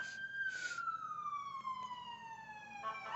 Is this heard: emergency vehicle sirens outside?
yes